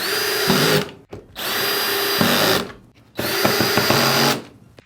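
Three bursts of a power drill whirring, each lasting about a second, as it drives screws into the back of a Samsung Q80B QLED 4K TV, separated by short pauses.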